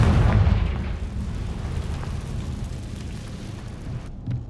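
Confringo spell blast in the video game Hogwarts Legacy: a loud, booming burst at the start that trails off into a long, low rumbling decay, then fades out.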